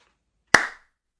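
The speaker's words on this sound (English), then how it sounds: "Our first clap." A single sharp hand clap, close and loud, ringing briefly before fading into silence.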